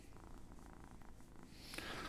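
A cat purrs while being cuddled, a faint, close, rhythmic rumble in pulses, with a rustle of handling near the end.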